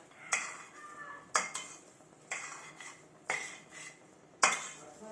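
A spoon scrapes and clinks against a pan while mixing suji halwa with almond powder and cashews, five sharp strokes in a steady rhythm, close and clear with no talk.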